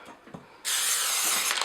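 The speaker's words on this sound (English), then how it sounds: "So what I use is just a normal brand of cooking spray." Cooking spray hisses onto a cake pan lined with wax paper in one steady, close burst of about a second, after a few faint handling clicks.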